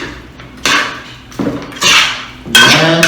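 Oxtail ingredients mixed in a pot, with several bursts of scraping and clanking from a utensil against metal cookware, close and fairly loud, separated by brief pauses.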